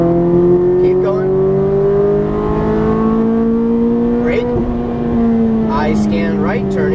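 A Ferrari F430 engine howls at high revs on a race track, its pitch rising and falling steadily through gear changes, loud and close throughout, with a driver talking over it.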